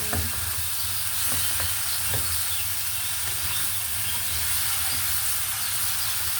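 Okra dropped into a hot pan with dried anchovies (dilis), sizzling and crackling steadily with scattered stirring clicks, loud and close throughout with no talking.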